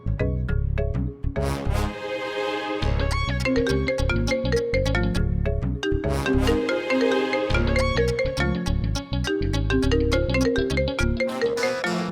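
A melodic electronic phone ringtone plays loudly and repeatedly in a bright, rhythmic loop, with no voices.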